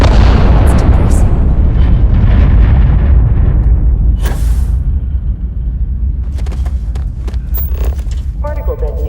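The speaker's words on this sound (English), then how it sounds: "Particle detonation concluded." A particle detonation in Starfield sets off a loud, sustained explosion rumble that slowly fades over several seconds, leaving a lower roar with faint scattered clatter behind it.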